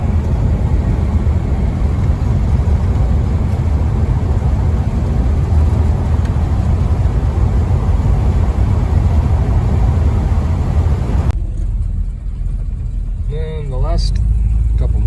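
A car driving along dirt roads through cattle country, a steady loud broadband road and engine rumble filling most of the stretch before it drops away near the end, with a faint voice at the tail.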